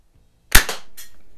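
A single sharp shot from a vintage Daisy Buck Jones model 107 BB gun, a crisp close crack with a brief ringing tail.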